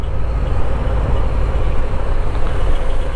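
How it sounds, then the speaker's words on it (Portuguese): A 2018 Suzuki SV650 motorcycle runs close by with a deep, steady exhaust rumble that holds loud and unbroken throughout, with no voices. "Agora, o ronco dessa moto é incrível."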